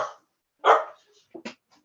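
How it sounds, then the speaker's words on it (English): A dog barks in the background of an online tech talk, with one solid bark followed by two short quieter yips, alone and with no speech over it. "I've got a dog in the background who's barking away as well, so hopefully it's not too loud"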